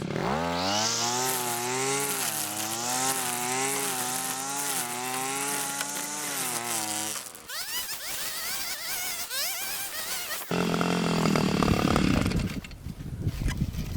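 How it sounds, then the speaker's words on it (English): Baokaler GRM520 52cc two-stroke brush cutter fitted with a brush blade, engine buzzing loud and close with a wavering pitch, then revving harder and rasping as it cuts through grass, no voices. "now that we got a little bit of the grass out of the way, that's kind of hard for the brush cutting blade to, you know, get that grass"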